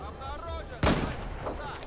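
A single loud AMR-2 sniper rifle shot in a video game cracks out abruptly near the middle, a sharp broadband blast with a short decaying tail over a low background hum.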